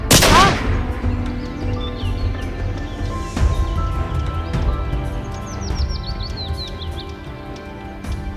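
Gunshots ring out in a Hindi-dubbed action movie scene: a sharp, loud shot at the start followed by several more spaced shots over a rumbling soundtrack, with high chirping tones near the end.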